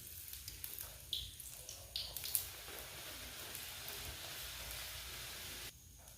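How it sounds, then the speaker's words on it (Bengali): Luchi, Bengali puffed flatbreads, dropped one by one into hot oil give a continuous crackling sizzle, moderately close, with a few sharper bursts early on and no talking. "একটা একটা করে সমস্ত লুচি আমি ছেড়ে দিই, খুব সুন্দরভাবে তেলটা গরম হয়ে গিয়েছে এখন"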